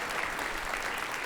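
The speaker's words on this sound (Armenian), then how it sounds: "եկեք բարձր ծափարենք" A studio audience at an Armenian talk show claps steadily for an invited dermatologist guest, a soft, even wash of applause lasting the entire moment with no voices over it.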